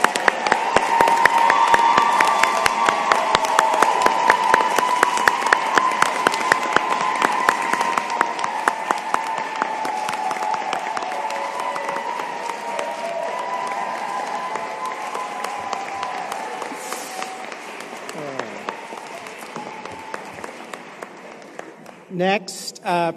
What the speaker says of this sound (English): Please join me in a round of applause for our Executive Master of Health Administration graduates.